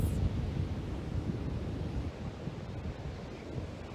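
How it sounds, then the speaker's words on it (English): Steady rushing surf washes continuously, a soft broadband roar of ocean waves with some wind buffeting the microphone. "The sound of the waves,"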